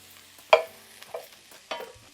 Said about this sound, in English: You're gonna toast that caraway.